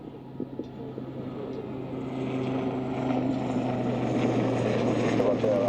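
Helicopter engine and rotor drone at an RAF Waddington airshow during a loop manoeuvre, a steady distant hum that swells gradually louder, with a commentator talking over it.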